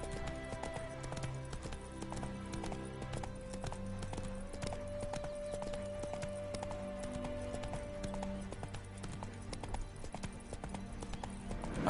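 Roach, Geralt's horse in the video game The Witcher 3, clip-clops along at a steady walking rhythm, the hoofbeats even and moderately loud over a sustained musical drone.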